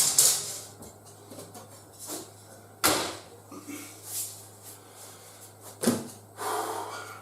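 Oven door swung open and shut in a home kitchen as minced beef and onion pasties go onto the middle shelf, with sharp clunks near 3 and 6 seconds and softer knocks and rattles between.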